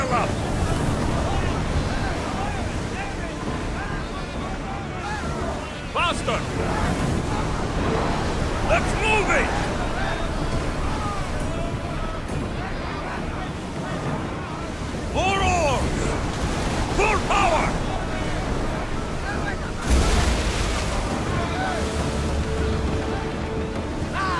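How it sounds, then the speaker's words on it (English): Strong wind and crashing sea surf rush past a sailing ship at speed in Assassin's Creed Odyssey, a loud steady roar with swelling gusts and creaking, with voices shouting over it. "Whoa! Feel that wind!"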